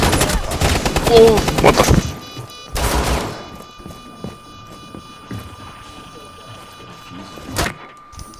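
Rapid gunfire in Rainbow Six Siege, loud bursts up front with later scattered shots, while a player shouts over the opening.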